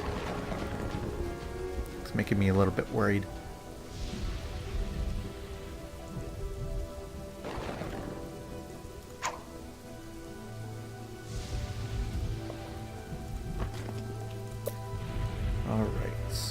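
Lightning storm in the Kingdoms and Castles city-building game: steady rain hiss with a few sharp cracks and low thunder rumbles, while someone talks quietly over it.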